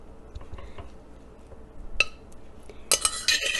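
Dried dal scooped from a container into an open dish, giving light scattered clinks and scrapes of utensil on dishware, with a louder burst of rattling grains near the end.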